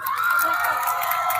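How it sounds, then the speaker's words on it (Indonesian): Crowd at an outdoor 17 August Independence Day flag ceremony in Sawangan, Depok, clapping and cheering in a steady, loud wash of applause with excited voices throughout. "Beri tepuk tangan."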